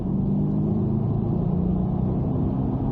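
A sports car engine rumbles steadily and loudly close by on the Haute Saintonge race circuit, holding a low droning tone as it pulls ahead, with no voices.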